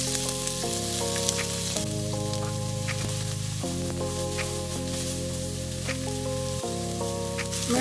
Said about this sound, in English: Fry onion for 3 minutes.